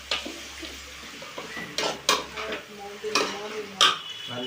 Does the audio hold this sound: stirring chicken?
yes